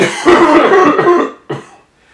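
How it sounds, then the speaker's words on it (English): A man coughs several times in a harsh, close burst, then gives one more short cough after a brief pause. "we got a man coughing to her right ear right now"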